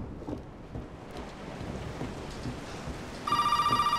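A telephone in the video game Resident Evil 7 starts ringing near the end, a sharp electronic ring cutting in over a steady background of rain-like ambient hiss.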